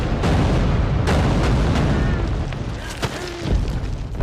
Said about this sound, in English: all of a sudden there's artillery shells again